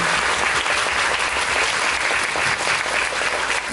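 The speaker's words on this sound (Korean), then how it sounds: "동화를 지어주신 문태우 배우님과 낭독해주신 네 명의 배우님께 박수 보내주시면" Steady, dense applause from a theatre audience after a staged reading, continuous and loud throughout with no voices standing out.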